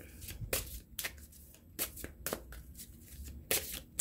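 Tarot cards are shuffled in quick, crisp riffles and flicks, a series of sharp papery bursts spaced irregularly and heard close and quiet.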